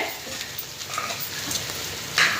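Goat offal fries in a pan on a medium flame, sputtering and crackling under the lid. Small pops burst irregularly, and a sharper spit comes near the end. No one speaks.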